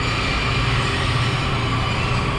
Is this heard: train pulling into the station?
yes